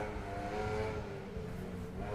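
A Porsche rally car at a rally stage runs with a steady droning engine at moderate distance, no strong revving or acceleration, as if it has lost drive.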